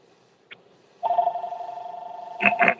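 A telephone rings with a steady, sustained electronic tone that starts partway in and carries on to the end, with a burst of louder clatter near the close.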